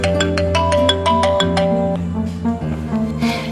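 A melodic phone ringtone plays loudly and alone, a bright repeating tune of rising and falling electronic notes that carries on steadily for a few seconds.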